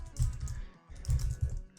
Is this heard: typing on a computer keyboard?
yes